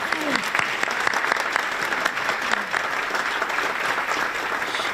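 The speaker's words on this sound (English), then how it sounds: "Let's give Katie a round of applause." A room full of people applauds continuously, dense clapping at moderate volume for the whole stretch.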